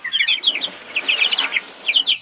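Farm chickens, a mix of hens and roosters, cluck in quick, close bursts, with a short pause in the middle before the clucking picks up again.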